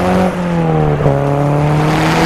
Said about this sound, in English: So what I do along this bit here is go up through the gears again.